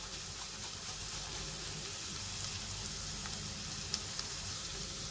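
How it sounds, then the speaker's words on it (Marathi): Grated ginger and green chilli are sautéed in a pan, making a soft, steady, continuous sizzle that stays faint throughout, with no voices. "2-4 मिनिटं हे परतून झालेले आहे."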